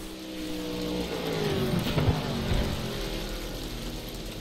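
Several GT4 race cars, a Ginetta among them, in a racing video game, their engines droning and rising together at close range, building to a louder peak of revving midway before settling back to a steady roar.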